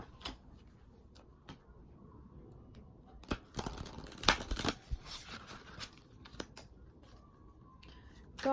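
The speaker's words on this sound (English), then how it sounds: "I'm going to pull you one more card from the Goddess deck." Tarot oracle cards from a Goddess deck being shuffled and drawn, a soft run of riffling and flicking snaps clustered in the middle, quiet and close, with scattered taps around it.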